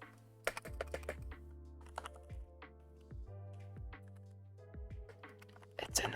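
Someone types on a laptop keyboard in close, irregular bursts of clicking keystrokes with short pauses between, over a low steady hum.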